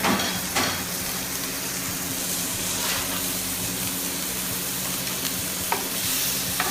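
Stuffed chicken searing in a hot pan, a loud, dense and steady sizzle up close with a few faint utensil taps, no voices.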